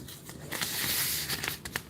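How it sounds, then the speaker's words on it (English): Paper orders being shuffled and handled, a dry crinkling and rustling with several sharper crackles and flicks, close and fairly loud with no talking. "I'm shuffling around through y'all canceled orders."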